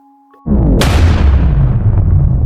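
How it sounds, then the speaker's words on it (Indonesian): A deep, loud explosion sound effect in an Indonesian audio drama bursts in suddenly after a short tone, then rumbles and roars on heavily, filling the remaining seconds without any talk. "Ledakan itu menciptakan kawah, menyapu pasukan di sekitarnya."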